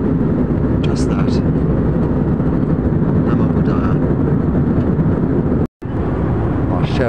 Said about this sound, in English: This is an Indigo flight.